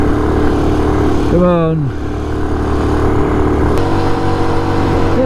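A Honda C90 motorcycle engine drones steadily in second gear, with a brief rising rev as the rider shifts, loud and close under the rider's voice.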